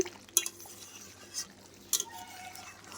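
Mutton being stir-fried (koshano) in a pot over a wood-fired clay stove, with a few sharp metallic scrapes and clinks of the ladle spaced across a quiet, low background.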